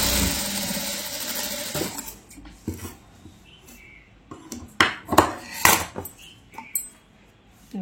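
A sewing machine stitches double piping onto cloth, a steady whirring run of stitching at first, then stopping and giving way to scattered clicks and handling knocks.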